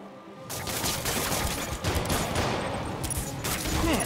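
Sustained bursts of rapid gunfire rattle without a break in a Spider-Man Remastered game scene, loud and close, with a brief quieter lead-in before the shooting starts.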